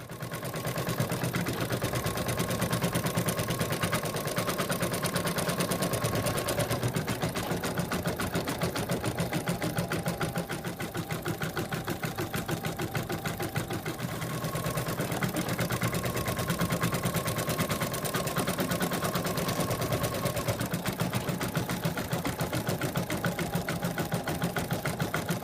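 An embroidery machine stitches satin lines on an in-the-hoop purse, with a steady, close, continuous motor hum and rapid rhythmic needle chatter that holds an even pace throughout.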